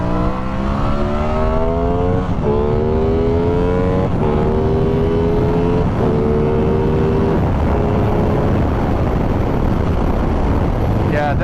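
Aprilia Tuono 660 motorcycle accelerating hard through several gear changes, the engine note climbing repeatedly then dropping at each shift, loud and close with heavy wind rush throughout.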